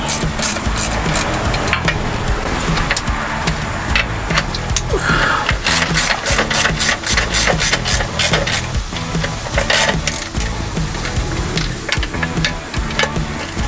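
A ratchet tightens transmission pan bolts on a Dodge Ram 1500, giving quick, rhythmic metallic clicking bursts with short pauses between them, close and fairly loud.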